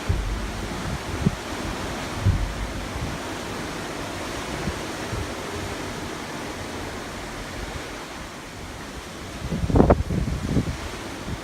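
Wind and waves aboard the cruise ship Anthem of the Seas in the mid-Atlantic make a steady broadband rush with a gusty, buffeting swell near the end.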